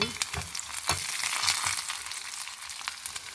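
Crushed garlic, mustard seeds and dried red chillies fry in hot oil, giving a continuous close sizzle with small crackles and pops throughout, with no talk.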